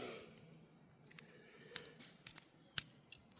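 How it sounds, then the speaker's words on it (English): Compact EDC multitool scissors cutting paracord outdoors, a few quiet sharp snips and clicks scattered over a few seconds against faint background hiss. "These things will cut easy right through paracord"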